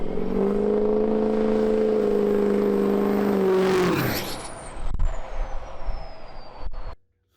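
A 2003 Ford F350 with a 6.0 Powerstroke and a 4-inch turbo-back exhaust with no muffler runs loud. A steady droning tone holds, then falls away with a rising turbo-like whine, followed by rumbling and knocks before it cuts off.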